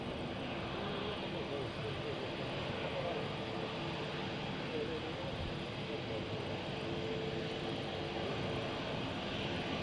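ATR turboprop aircraft at Madeira Island Airport in strong wind, a continuous distant engine drone blended with broad wind rumble, with people talking over it.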